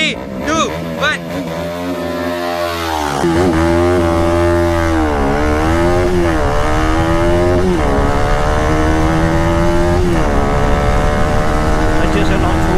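Pulsar RS 200 and KTM RC 200 motorcycles launch side by side in a drag race, engines revving hard and climbing through repeated rising gear pulls, loud and close, with a voice speaking briefly at the start.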